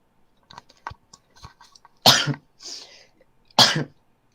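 Two sharp, forceful sneezes about a second and a half apart, each a loud burst of breath, with a few quieter mouth sounds before them.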